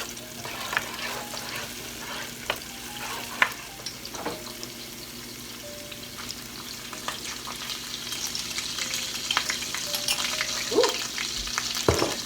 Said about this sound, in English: Garlic butter's spitting at me.